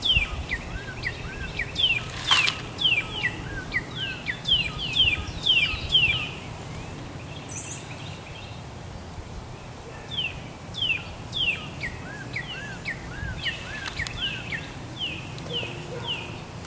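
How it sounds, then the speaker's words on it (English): Outdoors, a songbird repeats bright, rapid whistled phrases in runs of several notes, pausing between bursts, moderately near over a steady low rumble; a few other chirps appear briefly. "I can hear what at home would be a warbling vireo."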